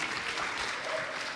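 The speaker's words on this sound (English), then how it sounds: "Big round of applause for Tom" A startup panel audience in Singapore breaks into dense, steady applause as a panel moderator is welcomed, a brief close wash of many hands clapping with no break.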